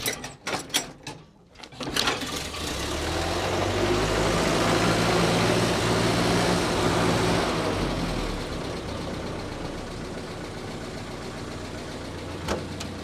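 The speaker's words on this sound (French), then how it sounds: "Et le démarrage à la manivelle" Old vehicle at an agricultural and automobile museum being hand-cranked: a few knocks and clanks, then the engine catches and settles into a loud, steady rumbling idle close by that slowly fades, with no voices.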